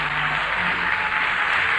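Steady, even applause from the audience at a 1970 concert in Paris, a continuous wash of clapping without breaks or talk.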